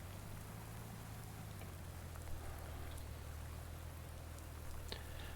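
Steady rain falls in the farming game Farming Simulator 19, a continuous soft hiss of drops on surfaces over a low vehicle hum, with a few faint taps standing out now and then.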